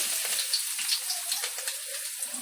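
Chopped ginger hits hot coconut oil with popping mustard seeds, producing a bright, close sizzle with quick spitting crackles over a couple of seconds.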